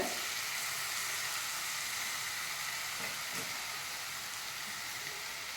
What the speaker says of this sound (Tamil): இதில் நம்ம ரைஸையும் போட்டு நல்லா வறுத்துக்கணும்